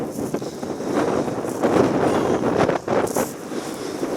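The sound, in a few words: wind blowing while wild camping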